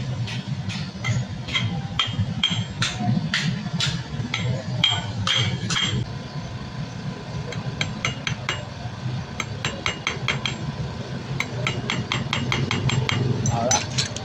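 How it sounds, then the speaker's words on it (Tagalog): A hammer taps a screw against a contact point, giving many sharp metallic clinks in quick bursts and steady runs, close and clear over a low engine-like background hum. "Pupukpukin natin doon na hindi tatamaan yung fibra para di mabasag."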